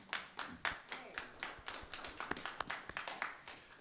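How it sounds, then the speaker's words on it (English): Sparse, distinct hand claps from a small group at a Genesee County Board of Commissioners meeting, quiet and somewhat rhythmic, each clap standing out separately in a modest room. "If we can, let's give her a applause"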